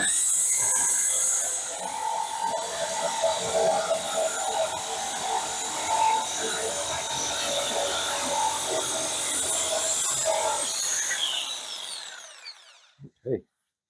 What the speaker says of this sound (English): It's got some sort of function that blows the sawdust out of the way of the blade